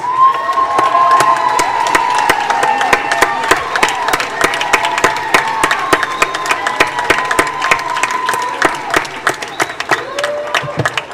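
A graduation crowd at the Los Angeles Convention Center cheers and applauds 4.0 GPA students, with loud, continuous clapping beneath whoops and sustained shouts from many voices filling the large hall.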